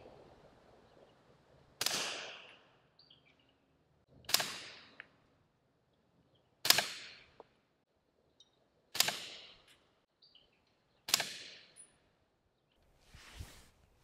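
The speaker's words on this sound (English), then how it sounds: "So first round pop obviously is there. Again, gotta burn off all of the gas that's inside the can before it even starts. Second round, insanely quiet." Five sharp suppressed shots from a Beretta M9A4 pistol fitted with an AB F4L suppressor, fired outdoors at even intervals of about two and a half seconds, each a crisp crack with a short decay, followed by a softer thump at the end.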